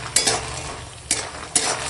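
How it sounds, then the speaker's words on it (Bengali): Lentil dumplings (bori) frying in hot oil, a steady close sizzle broken by three sharp metallic clinks of a utensil stirring in the pan. "এখন বড়িটা ভেজে নিই"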